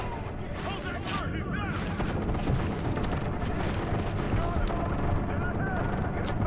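Gunfire and grenade blasts in the tactical shooter Ghost Recon Future Soldier, a dense continuous din of rapid shots and booms that stays loud throughout, with voices speaking over the combat.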